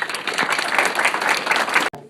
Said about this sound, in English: they deserve a round of applause for hanging in with us